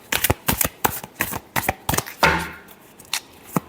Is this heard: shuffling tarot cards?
yes